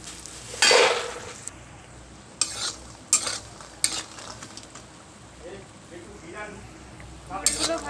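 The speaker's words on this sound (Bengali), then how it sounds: "বড়িগুলো দিয়েছি, এটা ভেজে নেবো" Bori lentil dumplings fry in oil for a shuchto, a soft background sizzle punctuated by several spatula stirs and scrapes against the pan, close by, with faint talk underneath.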